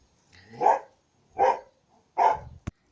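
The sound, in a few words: dogs barking while playing outside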